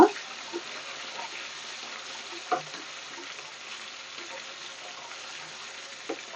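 Tomatoes softening in a pan for a fish curry give off a steady, gentle sizzle with faint stirring clinks now and then, close and continuous, without any talking.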